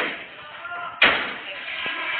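A door in a hotel corridor is tried by police and found locked, giving one sharp, loud slam-like thud amid quiet room noise, with a faint tap shortly after.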